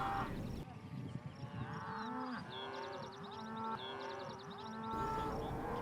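A calf and cattle moo repeatedly during cattle handling with an ATV, long drawn-out bellows overlapping one another, fairly close and clear over a low background rumble.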